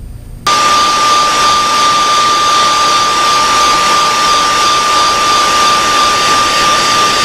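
Heat gun blowing steadily to heat-set paint on a custom model horse, starting abruptly after a short quiet moment and running loud and constant with a whining tone, no talking.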